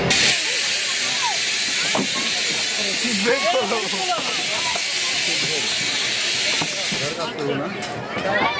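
A hydraulic, air-powered amusement ride at Green Valley Park in Natore lets out a loud, steady hiss that runs almost the whole time, with people talking and crowd voices mixed in over it.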